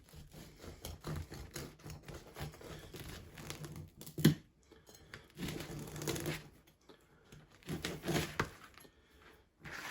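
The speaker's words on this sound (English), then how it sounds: "let's cut this one. Cut a slice off." A knife saws through the crusty loaf of no-knead bread, giving irregular crackling, crunching strokes with a sharp snap partway through and quieter scraping between cuts.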